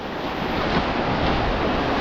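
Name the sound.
sea waves on the beach at Mannithalai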